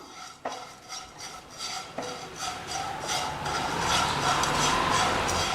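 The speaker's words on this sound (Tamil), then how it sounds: "இப்போ இந்த அவலை மிதமான சூட்டில் வச்சு ஒரு 2-3 நிமிஷம் நல்லா ரோஸ்ட் பண்ணிடலாம்." Flattened rice (aval) dry-roasting in a pan over medium heat, heard as repeated scraping and clinking of a spoon stirring against the metal, growing denser toward the end.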